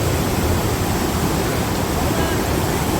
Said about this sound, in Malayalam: വെള്ളം ഇങ്ങനെ അത്ര ആഴത്തിൽ വന്ന് പതിക്കൊണ്ടാണ്